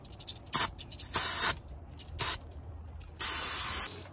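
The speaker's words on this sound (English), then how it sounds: "I'm gonna hit it with some brake clean before we do anything" Aerosol brake cleaner sprayed onto the distributor cap of a 1990–93 Honda Accord 2.2, four sharp hissing bursts of varying length, one brief and the last longest, close and loud over near silence.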